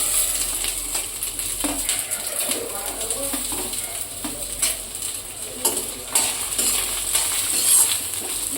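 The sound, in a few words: onions frying and being stirred in a pan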